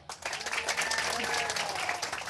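Residents applaud at an outdoor evening town-hall dialogue in Jakarta: a dense, steady wash of many hands clapping fills the whole stretch, loud and sustained, with a crowd murmur beneath.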